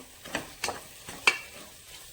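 Masala with turmeric, salt and chili powder frying in oil for a mutton gravy curry, several short scraping stirs against the pan over a quiet sizzle, close and fairly clear, no talking.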